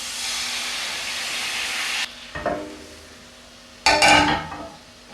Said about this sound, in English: Just let that bubble away for a little while